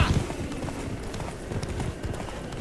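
Horse hooves clip-clop in a quick, uneven rhythm as a horse runs in the video game The Witcher 3, close and fairly clear with no talk over it.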